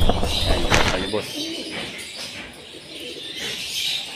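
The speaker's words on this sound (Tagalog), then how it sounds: "Ang dami ibon na rin dito." Pigeons in a racing pigeon loft coo softly while wings flap in bursts nearby, and someone talks over the birds.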